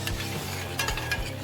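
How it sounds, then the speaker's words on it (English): Homemade hot sauce is stirred in a pot for bacon cheddar chicken wings: a close, low bubbling simmer with a few short scraping strokes of a utensil, and no voices. "gotta stir my hot sauce"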